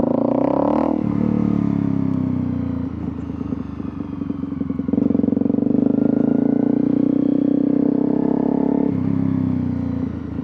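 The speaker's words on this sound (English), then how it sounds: "if I have it on a lot of throttle and I let the clutch out, like I let it out, it still takes a second to rev up" A Honda CRF250L motorcycle with a 13-tooth front sprocket, held on heavy throttle, revs up loud and close as the clutch lets out, its engine note dipping and climbing with a steady droning roar throughout.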